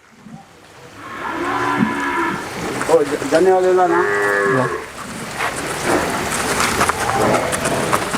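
Pregnant and milking buffaloes moo loudly several times, long drawn-out lowing calls from close by, with a brief spoken word near the end.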